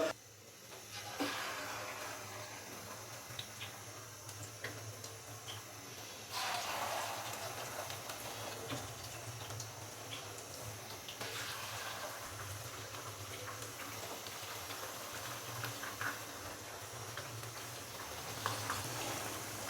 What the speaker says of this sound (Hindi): तो यहाँ पे मैंने बड़ी एहतियात के साथ चिकन के जो पकोड़े हैं वो फ्राई होने के लिए डाल दिए हैं।